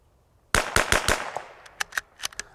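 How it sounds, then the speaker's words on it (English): Rapid rifle shots from a Ruger Precision Rifle: four sharp, loud cracks in quick succession, then a scattering of fainter pops and echoes as the firing trails off outdoors. "I shot this really fast, not really looking for accuracy"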